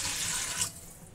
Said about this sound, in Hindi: तकरीबन दो गिलास मैं इसके अंदर पानी ऐड कर रही हूँ